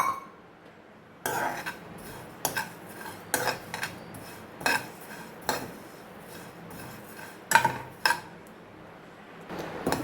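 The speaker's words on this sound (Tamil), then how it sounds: "சேம் பேனில் சீரகம் வந்து நான் வறுத்துக்க போகிறேன்" Cumin seeds are dry roasted in a pan and stirred in bursts, giving sharp metallic scrapes and clinks of a spoon on the pan between quiet pauses, close and moderately loud.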